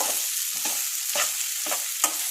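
Sliced potatoes fry with masala powder in a pan, a constant close sizzle broken by several brief scraping stirs of a spatula.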